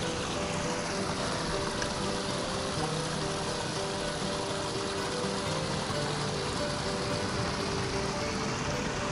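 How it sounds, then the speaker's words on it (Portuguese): A stream runs toward a waterfall at Brejão, Portugal, as a steady, fairly loud broadband rush of flowing water continues unbroken and alone throughout. "A ribeira que vai dar a cascata"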